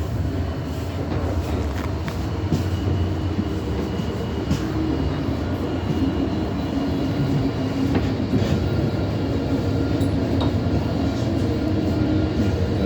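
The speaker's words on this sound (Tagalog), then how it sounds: "Ang sa loob ng train." Rumble and rattle from inside a moving train carriage, a steady low drone with scattered clicks and squeaks of the car, continuous throughout with no talking.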